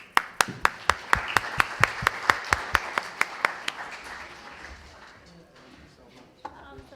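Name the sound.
audience applause after a conference panel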